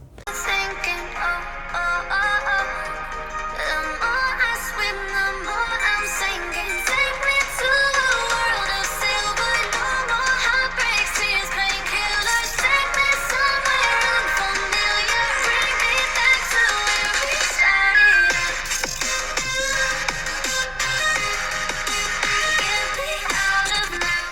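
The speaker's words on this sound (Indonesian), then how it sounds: "untuk lebih detailnya kita balik lagi ke speaker testnya, ini kalian bisa dengerin deh, menurut gue lumayan oke" Music played back through the speaker of a Vivo X300 Ultra phone, a steady, full-sounding track running throughout at an even level with no talking over it.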